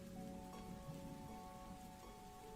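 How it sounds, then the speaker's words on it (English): Steady rain pattering on an umbrella overhead in a city street at night, a dense continuous patter with a low rumble beneath, moderately quiet and with no voices. "pattering on the umbrella above your heads, drowning out the occasional sound of a car driving through in the rain."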